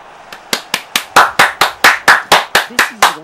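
A dozen crisp hand claps ring out in a steady, even rhythm, loud and close, with no talking.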